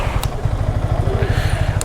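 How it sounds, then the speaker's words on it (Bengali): A motorcycle engine chugs close by at low revs in a steady pulsing rhythm, ridden slowly through rain as it comes to park, with a faint voice mixed in. "বাইকটা এখানে পার্কিং করি"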